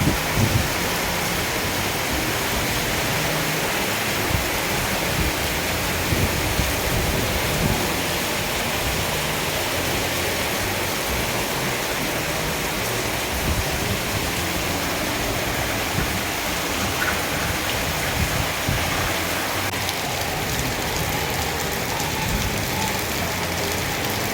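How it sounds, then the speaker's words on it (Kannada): Heavy rain pours down steadily, a dense, unbroken hiss of water that stays loud and even throughout, with no voices. "ಎಷ್ಟು ಜೋರು ಮಳೆ ಬರ್ತಿದೆ"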